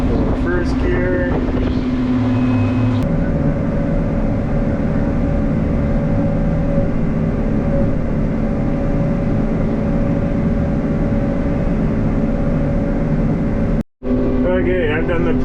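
A tractor engine on a forage field runs continuously and loudly in first gear after being taken out of road gear, a steady droning rumble with wind buffeting, briefly cutting out near the end.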